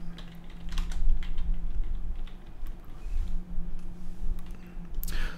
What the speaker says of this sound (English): Sometimes I'm typing and keys don't get set.